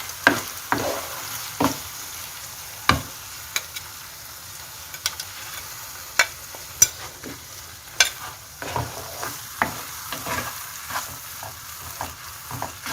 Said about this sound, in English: Fry them for 4 or 5 minutes.